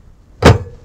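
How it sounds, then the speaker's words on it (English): A Porsche 356A lid pushed gently down until it latches: a single soft, muffled thunk with a short metallic edge, close and brief against near silence. "and then just very gently push down to latch it"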